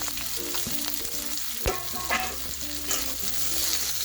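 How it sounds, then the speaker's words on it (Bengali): Chopped onions and four or five green chillies fry and sizzle steadily in a pan for a home-style chicken stew, with a spoon scraping and stirring through them in irregular strokes. "পেঁয়াজটাকে নাড়িয়ে চাড়িয়ে একটু নরম করে ভেজে নেব"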